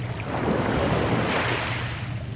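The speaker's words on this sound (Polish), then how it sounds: "plaża na wyspie Sentosa w Singapurze" Surf breaks and washes steadily along a beach on Sentosa island in Singapore, a continuous broad rushing hiss of waves with some wind buffeting the microphone and no voices.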